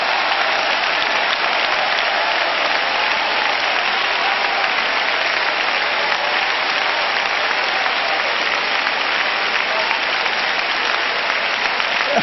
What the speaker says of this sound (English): Clap your hands and shout